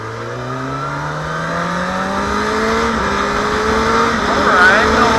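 A 2020 Yamaha MT-07 motorcycle engine pulls steadily upward in pitch through several gear shifts under strong wind rush, loud and close.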